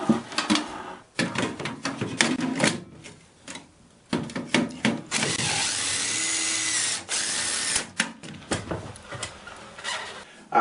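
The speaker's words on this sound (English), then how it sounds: "Now let's go downstairs and cut that hole." A power tool cuts a hole for an air conditioning duct riser, running in repeated loud bursts with short pauses, then one longer steady cutting run of grinding and rasping through the material.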